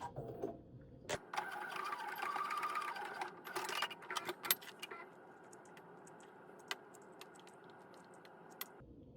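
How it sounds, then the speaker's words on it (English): A sewing machine runs steadily for several seconds, basting webbing in place 1/8 inch from the edge while making a waist pack, with a few light clicks and handling knocks over the close, even stitching hum. "We're going to baste that in place too."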